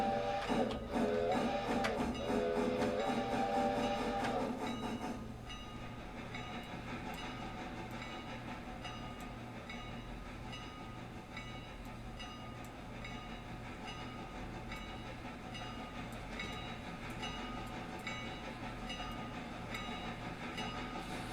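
A game train in Railroader reverses slowly over a switch, with a steady mechanical rumble and rhythmic clicking of wheels on rail joints, loud and continuous, louder at first then settling into a low drone.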